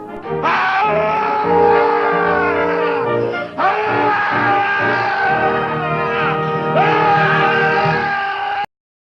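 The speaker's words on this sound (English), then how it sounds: "The movie finally ends with a PTSD-inducing scream ripped straight from the end of Bold Caballero." A long, loud, wailing scream from the end of a Zorro film serial, taken from Bold Caballero, rises and sustains with quavering tone, breaking briefly before swelling again and cutting off abruptly.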